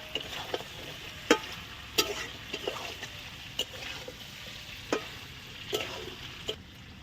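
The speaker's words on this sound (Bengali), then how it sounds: "মাংসটা বেশ কিছুক্ষণ পরে কষানোর পরে আলুটা দিয়ে দিচ্ছি।" Meat is stirred with fried potatoes in a pan for a village-style chicken skin curry. A soft, low sizzle runs under scattered spatula knocks and scrapes, fairly quiet and close.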